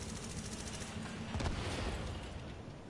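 Sustained gunfire from The Division beta, a steady spray of automatic shots with a brief heavier burst midway, continuous and fairly near throughout.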